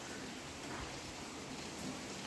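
Steady rain falling on a wet day, an even, dense hiss of drops without pause, fairly close and moderately loud, with no voices.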